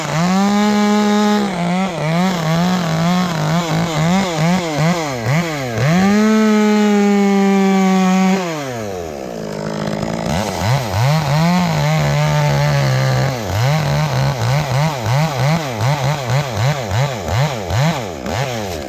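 A chainsaw tops a tree during a tree removal, its engine revving in repeated loud bursts and sustained high whines as it bites into the wood, with a brief drop to idle midway before it cuts again.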